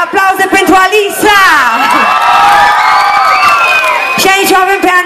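Outdoor concert crowd in a park cheers and whoops loudly, with high children's shouts rising over a steady clatter of applause, while a singing voice and music briefly come through at the start and end.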